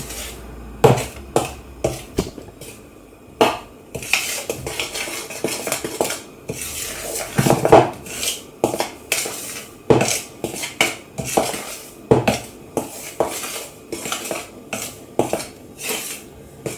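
A spoon stirs red velvet cake batter in a bowl, producing repeated scraping clinks and taps against the bowl in an uneven rhythm, close and clear with no talking.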